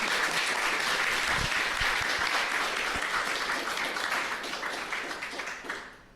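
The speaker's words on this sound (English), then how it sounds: "Give her a round of applause." Warm, sustained audience applause at a live podcast event in Bali, full and close at first, then gradually tapering off to quiet by the end.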